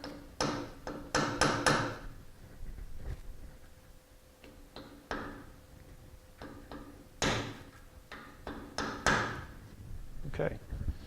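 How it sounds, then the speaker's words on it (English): A bearing retaining ring on a 30 ACM coaxial bearing assembly gets light metallic taps, a few sharp ticks in quick clusters near the start and again later, close up, with a person talking between them. "You can give the retaining ring just a light tap on the open end just to make sure it's fully seated."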